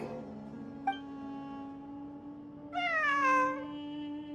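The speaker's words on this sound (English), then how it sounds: "A cat? I think there was one earlier, too." A cat in Genshin Impact gives a couple of clear meows, a short one first and then a longer, rising-falling call near the end, over a steady hum of in-game background music.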